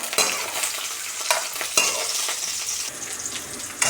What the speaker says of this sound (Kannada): ಇವಾಗ ಅದಕ್ಕೆ ಒಣಮೆಣ್ಸಿನ್ಕಾಯಿ ಸೇರ್ಸೋಣ